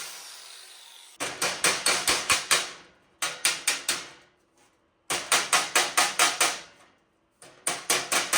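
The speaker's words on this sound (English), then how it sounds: "So I got this rounded dolly and this hammer again." Rapid metallic hammer blows on sheet metal over a rounded dolly ring out in bursts of about six to eight strikes each, loud and close, with short pauses between runs.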